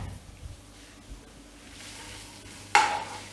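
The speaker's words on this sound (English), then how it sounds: "I'll give that a stir around" Onions softening with garlic in a frying pan get stirred, a low steady sizzle building slightly before a sudden loud scrape or clatter of the spoon near the end, close by with no talking.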